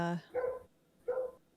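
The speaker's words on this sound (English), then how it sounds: "Oh, that's a dog." A dog barks twice, two short, mid-pitched woofs about half a second apart, following a brief bit of talk at the start.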